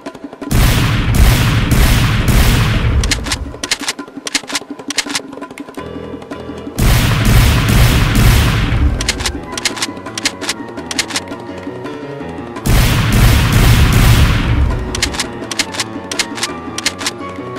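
A LEGO-built lever-action gun modeled on a Team Fortress 2 weapon fires in three separate bursts, each a rapid string of sharp plastic clacks and snaps, close and fairly loud, with quieter clicking between bursts.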